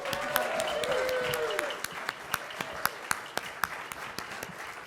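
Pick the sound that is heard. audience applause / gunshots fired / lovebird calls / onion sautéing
audience applause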